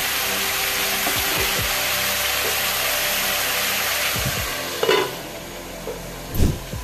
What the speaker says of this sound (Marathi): आता फुल गॅसवर मी 5 मिनिटं असंच परतवणार आहे.